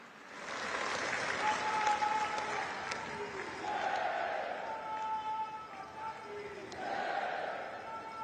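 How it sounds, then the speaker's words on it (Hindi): A large audience at a Women's Day Lakhpati Didi honour ceremony in Navsari, Gujarat, applauds to welcome Prime Minister Narendra Modi, with steady, sustained clapping and crowd murmur throughout and faint tonal hums underneath. "आइए जोरदार तालियों के साथ आमंत्रित करते हैं"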